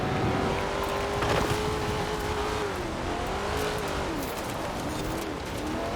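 A Holden VL Commodore engine drones steadily while driving in the game Forza Horizon 4, the revs rising and falling with brief tire squeal, continuous and close with no talking over it.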